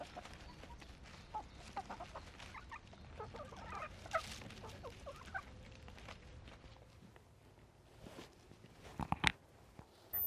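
Backyard chickens clucking and calling close by over a few seconds, with scattered footsteps and light rustling around them and a brief burst of activity near the end.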